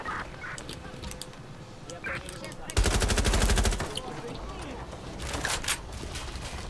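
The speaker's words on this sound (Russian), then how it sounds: "Стреляют." Video game gunfire from Watch Dogs Legion, a sudden sustained burst of rapid automatic shots lasting about a second, loud and close amid other game sounds and scattered effects.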